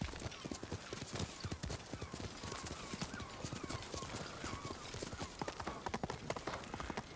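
Horse hooves clip-clopping steadily in the video game Ghost of Tsushima, a dense, rhythmic stream of hoofbeats at close range, fairly quiet, with a faint whinny and no talking over it.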